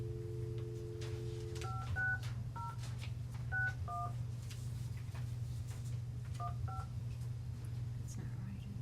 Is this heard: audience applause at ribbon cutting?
no